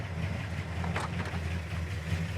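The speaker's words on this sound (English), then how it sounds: "these dual quads are running 500 RPM, Dalton." A 1960 Ford Starliner V8 with dual quad carburetors idles at about 500 RPM, a steady low rumble with a pulsing bass throb running evenly throughout, close and continuous with no talking.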